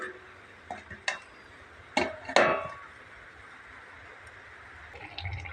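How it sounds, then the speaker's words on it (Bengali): A lid goes onto a cooking pot of tilapia fish curry with dundul, giving a few light clinks followed by two sharper metallic clanks close together, then a quiet simmer. "এখন বন্ধুরা আমি ঢাকনা দিয়ে দেবো।"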